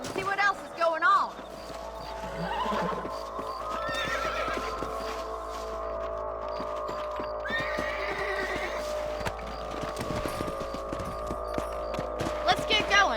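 In the Red Dead Redemption video game, horses clip-clop along at a steady gait and one neighs, with a voice talking over the hooves and a low ambient hum beneath.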